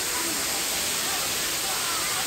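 Pangpang Habog waterfall in Antequera, a constant broadband rush of falling water, moderately loud and unbroken throughout.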